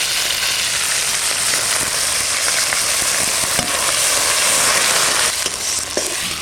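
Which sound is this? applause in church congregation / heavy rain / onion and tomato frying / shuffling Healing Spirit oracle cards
onion and tomato frying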